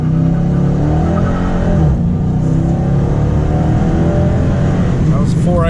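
A 2013 Dodge Challenger 5.7 launching hard from a dead stop in cold weather, its engine roaring loud and steady as it climbs through the revs with the wheels spinning, recorded from inside the car.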